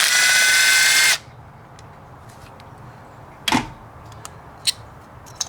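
A power tool whirs for about a second undoing a 10 mm bolt on a coil pack of a 3rd generation Toyota Prius, followed by a few light clicks and taps of parts in a quiet garage.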